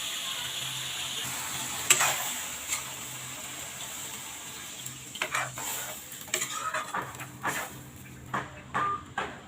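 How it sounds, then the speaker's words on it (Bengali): Water goes into a hot pot of braised chicken being cooked for chicken bhuna khichuri. A sharp splash and hiss are followed by a low, steady simmer and a run of quick clicks and taps near the end, close and fairly quiet, with no speech. "কষানো হয়ে গেছে, এখন আমি দিয়ে দেবো জল।"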